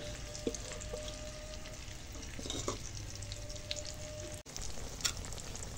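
Dal and asafoetida fry on a low flame with a soft, steady sizzle, while faint stirring and light clinks break in now and then.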